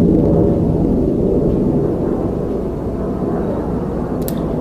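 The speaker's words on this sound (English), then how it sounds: "That's what I get for living next to an Air Force base that has takeoffs every day" Military jet taking off from a nearby Air Force base, a loud, deep, continuous roar that rumbles and fades slightly over several seconds, with no talking.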